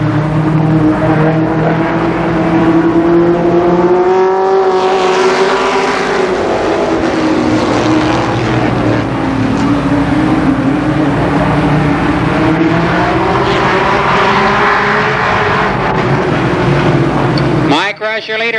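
Race cars circling the Columbus Motor Speedway oval during the Nuckles Memorial, a loud continuous engine roar with pitch sweeping as cars pass, heard under a track announcer's steady commentary.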